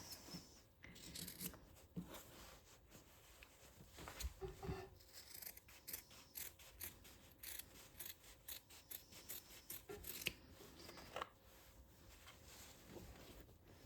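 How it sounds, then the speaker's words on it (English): Scissors snip through fabric at the corners of a sewn zipper pouch, a series of quiet, close crisp cuts and rustles over a soft background. "Cut the corner on an angle, just so we have nice clean corners."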